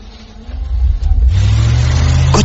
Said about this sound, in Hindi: मैं गाड़ी में बैठा और गाड़ी स्टार्ट की।